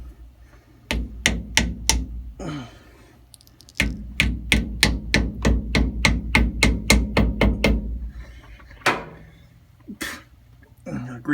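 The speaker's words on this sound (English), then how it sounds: "You tap it in with a hammer." Steady metallic hammer taps drive a new pinion seal into a Ford 8.8 rear end, a quick run of evenly spaced close strikes, a pause, then a longer series and a few scattered final hits, with someone talking at times.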